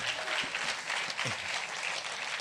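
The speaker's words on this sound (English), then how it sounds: "big round of applause" Applause from an audience at an evening speaker series, steady dense clapping filling the whole stretch at moderate loudness with no voices over it.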